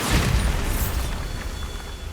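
A Bombarda spell explosion in the game Hogwarts Legacy, one loud booming blast with a deep low rumble that fades slowly over about two seconds.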